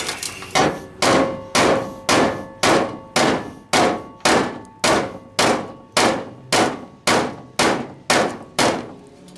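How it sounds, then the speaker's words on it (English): Repeated hammer blows on a metal air cleaner lid for a dual-stud TBI setup, about sixteen sharp ringing clangs at a steady pace of roughly two per second, loud and close with no talking. "Now with a little more hammering"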